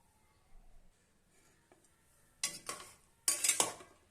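Spoon scraping and clinking against a pot while serving masala pulao rice, a few sharp metallic scoops and taps in quick succession after quiet moments, close by with no voices.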